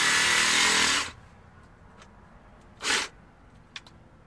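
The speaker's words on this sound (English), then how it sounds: "at least we know I can use a jigsaw" A jigsaw cuts into a pumpkin while a jack-o'-lantern is carved, a loud steady buzzing burst of about a second, then quiet with a shorter second burst and a faint brief click, with no talking.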